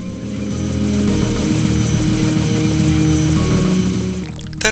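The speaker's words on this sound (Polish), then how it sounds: "wydostać się stąd za pomocą naszego wszędobylskiego śmigłowca" A helicopter in the video game Foreign Legion drones steadily as its engine and rotor hum sit in a loud, continuous mechanical tone, with a brief clatter at the very end.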